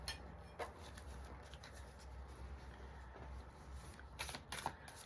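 Oracle cards from a light activation deck being shuffled by hand: a soft, faint, steady riffling patter with a few crisper bursts toward the end, no talk.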